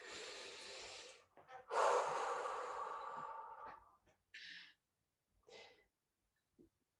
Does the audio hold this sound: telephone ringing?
no